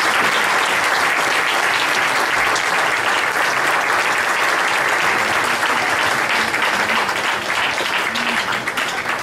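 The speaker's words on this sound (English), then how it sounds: "Round of applause for all of you." An audience at a school board of education meeting claps in sustained, dense applause that holds steady throughout and tapers slightly at the end.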